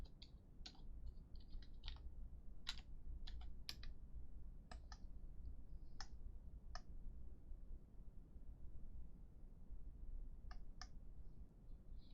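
Quiet, close keyboard typing in irregular bursts of crisp clicks with pauses between, heard alone against a soft low hum.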